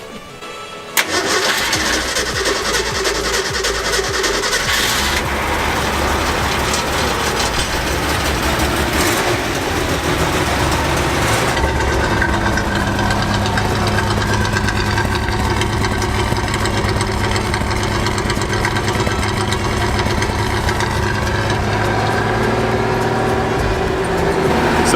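A 1962 Mercury Comet, being worked on and in rough shape, cranks briefly with the choke set and catches, then runs loud and close at a steady, slightly uneven idle for the rest of the clip with no talking.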